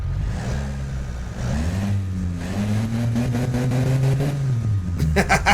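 A simulated car engine in the Automation tycoon game's engine test idles roughly, then revs upward with rising pitch, loud and steady, a faint voice near the end.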